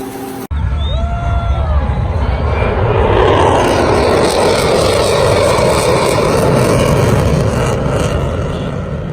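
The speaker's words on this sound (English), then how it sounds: "that's an F-35" An F-35 fighter jet passes overhead as a loud, broadband roar that swells within the first second and then holds steady and powerful, filling the air with no talk.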